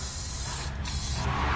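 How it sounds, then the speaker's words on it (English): A can of spray lubricant hisses onto a rubber muffler hanger underneath a 2017 Toyota. It gives two close, loud bursts of spray separated by a brief pause, with no one talking. "I'm going to spray down the hanger"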